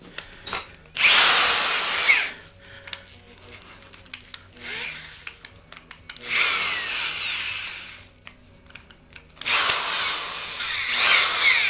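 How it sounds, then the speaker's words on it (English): A power drill with a troublesome bit bores into a boat transom in three loud bursts of whirring, separated by quieter stretches of handling and clicking. "Hopefully you got a better drill than I do."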